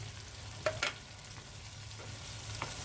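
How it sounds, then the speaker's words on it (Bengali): Fried koi fish go into a pan of spiced masala, giving a soft, quiet sizzle with a couple of clanks from stirring, no talking. "এই যে মাছ ভেজে রেখেছিলাম এখন দিয়ে দিচ্ছি"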